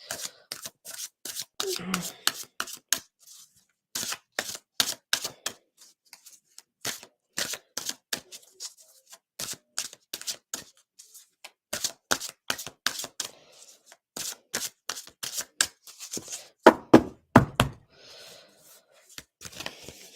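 Cards shuffled and pulled for a card reading, heard as brisk, crisp clicks and riffling flicks in irregular bursts, close and fairly loud, with a quiet voice briefly under them.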